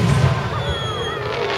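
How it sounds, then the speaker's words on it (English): Fourth of July fireworks fired off outdoors: a continuous rumbling crackle and booming from the launches, loud and steady with no distinct pauses. "just blasting fireworks."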